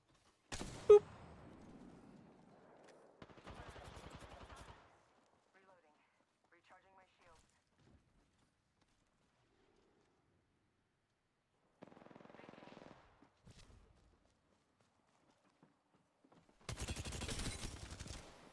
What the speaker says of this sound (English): I did hear shooting.